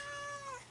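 A cat in a podcast studio gives a single drawn-out meow that fades at the end, clear but fairly quiet and close to the microphone.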